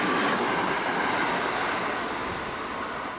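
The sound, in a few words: express train passing through a station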